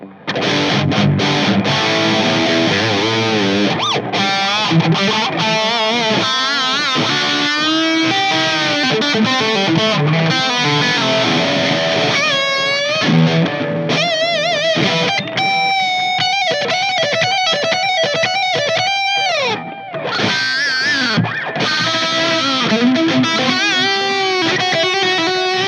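Heavily distorted electric guitar played through a Mesa Dual Rectifier high-gain amp on channel 3, with a Tube Screamer 808 overdrive and Timeline delay, chords and sustained lead notes ringing continuously and loudly.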